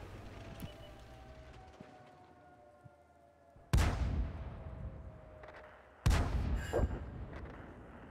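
Artillery fire in a tank video game, two heavy booming blasts a couple of seconds apart, each with a sharp crack and a long rumbling decay, loud and near over faint background noise, with no talking.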